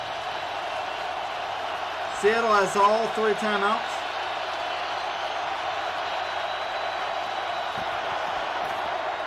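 Seattle home crowd at an NFL game against the Rams, a constant distant roar of the stadium beneath a commentator's voice, with a short whistle-like cheer rising briefly near the start.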